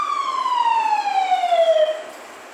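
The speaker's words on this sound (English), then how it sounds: "you hear the sirens?" A single emergency siren sweeps smoothly downward in pitch, loud and close, then fades away at the end with no talking over it.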